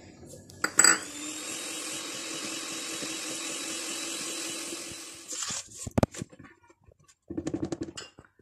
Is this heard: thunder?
no